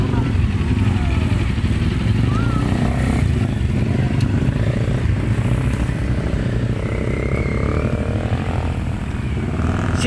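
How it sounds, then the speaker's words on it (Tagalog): Several big bike motorcycles rumble past with a loud, continuous engine drone and clatter, close by, while voices talk over them throughout. "Ayan ang mga big bike, guys."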